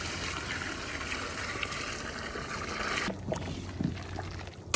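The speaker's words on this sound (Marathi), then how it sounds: "आपण आता चिकन शिजण्याकरिता पाणी घालून घेऊ।" Water is poured into a pot of chicken being cooked for a village-style chicken Maggi recipe, a soft steady splashing pour that stops partway through, followed by faint clinks and quiet stirring nearby.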